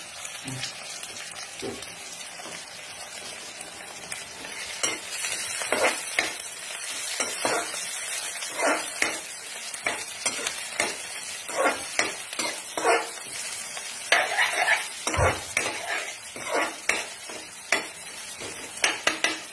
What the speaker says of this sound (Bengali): পেঁয়াজগুলো একটু ব্রাউন হোক, একটু ব্রাউন ব্রাউন হয়ে এসছে